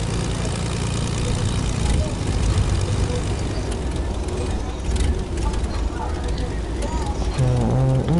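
Airplane engine in a video game, a steady low propeller drone under continuous talk, with a rising tonal whine near the end.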